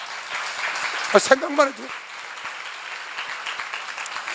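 An audience claps in a continuous wash of applause while a voice briefly speaks over it.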